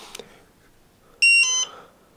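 A Spektrum XBC100 cell checker sounds its low-voltage alarm for a 3-cell battery with one dead cell: a short pair of loud, shrill electronic beeps after a faint click, with quiet surroundings.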